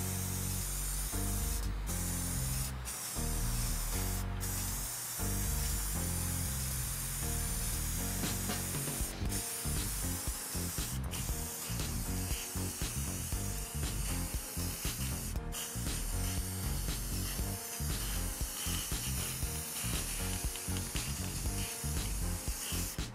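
Spray gun laying a thick coat of red paint onto mud flaps, a continuous close hiss running steadily throughout with faint knocks and clatter underneath.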